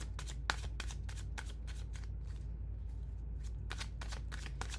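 Tarot cards being shuffled close up in repeated riffling bursts, a brief lull midway, then steady shuffling again; no talking.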